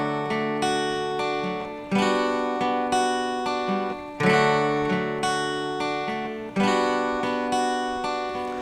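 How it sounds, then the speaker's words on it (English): Acoustic guitar playing the electric lead picking part from a song, with repeated strummed chords and picked notes ringing out in a steady rhythm, close and clear with no voice. "on the record there's a second guitar, an electric guitar, which is doing some picking parts. You can actually play that on the acoustic."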